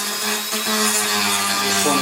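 Rough JB Weld being sanded off the bakelite cabinet of a Philco 64 radio, a close, loud continuous rasping with a steady hum underneath through the whole stretch.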